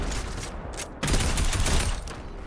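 Loud gunfire in Fortnite, a dense crackling burst that swells sharply halfway through and keeps rattling to the end with no talking.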